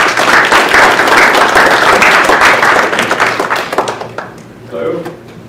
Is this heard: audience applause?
yes